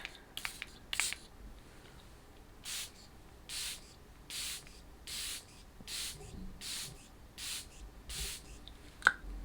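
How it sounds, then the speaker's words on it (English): A Charlotte Tilbury Airbrush Flawless setting spray hisses about ten times in a steady rhythm, short bursts close up, with a few small clicks at the start. "for my setting spray, I'm going to use this Charlotte Tilbury Airbrush Flawless Setting Spray"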